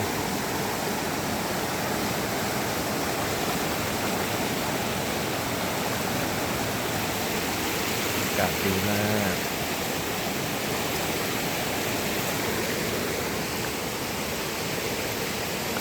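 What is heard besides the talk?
Wang Ta Krai waterfall flowing water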